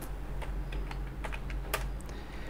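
Code is typed on a computer keyboard in a steady run of close, crisp key clicks over a constant low hum from the room.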